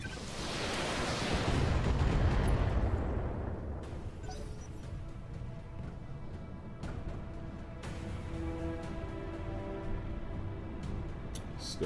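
LRM missile salvo firing in the Battletech video game: a loud rushing burst that swells and fades over a few seconds, then a softer stretch of scattered clicks and thuds.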